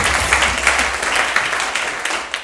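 An audience at an all-stars talent show applauds after a performance, a loud, continuous burst of many hands clapping with small surges and no voices on top.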